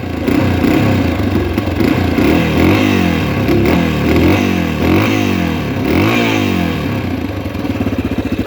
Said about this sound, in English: you can hear more of the actual motor than you can the exhaust